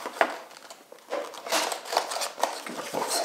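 A knife slices open a cardboard box holding a USB-C portable hub with built-in SSD, heard as a few short close scraping cuts and some crinkling, with no talk.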